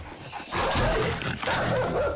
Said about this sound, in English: Dogs, dogs, dogs!